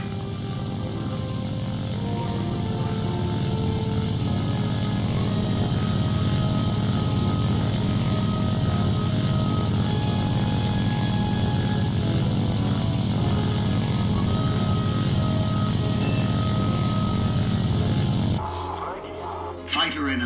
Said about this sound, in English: you're controlling an attack aircraft